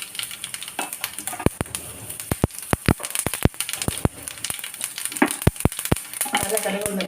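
Mustard seeds and urad dal pop and crackle sharply in hot oil, irregular bursts over a steady sizzle, close and lively.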